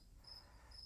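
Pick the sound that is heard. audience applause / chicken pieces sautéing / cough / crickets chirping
crickets chirping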